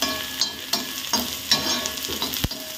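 Onion and coconut fry loudly on a griddle, with close crackling sizzle and repeated sharp scrapes and taps of a spatula stirring and pushing them aside.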